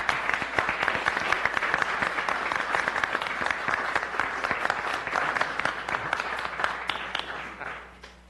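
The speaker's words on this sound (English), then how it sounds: "give him a round of applause" A room full of people at a public safety committee meeting gives a sustained round of applause, dense steady clapping that fades out near the end.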